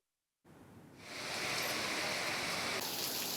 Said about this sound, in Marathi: मे महिन्यातच मीरा भाईंदर शहरात पावसाची दमदार हजेरी बघायला मिळाली